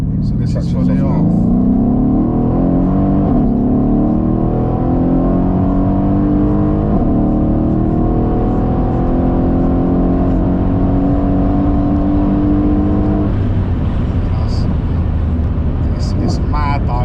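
A stage 2 tuned Mercedes-AMG E63S engine drones loudly from inside the cabin, pitch climbing through the gears, then a drop as it downshifts under braking, with people talking over it.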